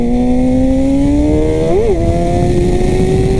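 A Suzuki GSX-R 600 sport motorcycle engine held at a steady high-pitched whine, briefly blipping and dipping before settling back, loud and close.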